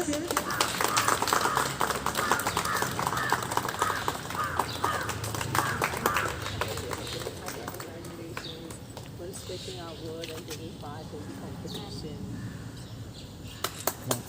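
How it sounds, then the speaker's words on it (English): Scattered clapping for teachers at a school Republic Day prize ceremony, strongest at first and then thinning, with a speaker talking over it throughout. "Please applaud teachers"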